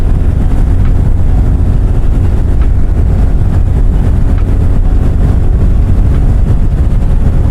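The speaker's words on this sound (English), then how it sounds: "that DCAT pipe that I installed, क्या sound आ रहा है" A Royal Enfield Himalayan 450 motorcycle with a decat exhaust pipe rumbles on the road, a loud, continuous low engine drone mixed with heavy wind rush and no pauses.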